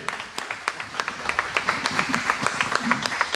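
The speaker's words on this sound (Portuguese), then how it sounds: "Aplauda o Senhor Jesus pela vida do pastor Hernandes, amém" Church congregation at a prayer service clapping together in a quick, fairly even rhythm, moderately close, with faint voices mixed in.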